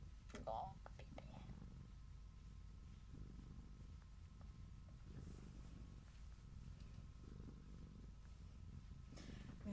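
A cat purrs softly and close by, a low continuous rumble that runs under quiet talk and handling noises.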